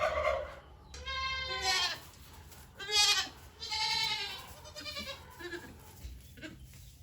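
Goat on a small farm bleating loudly and repeatedly at close range, the wavering cries coming in several bursts with short pauses between them.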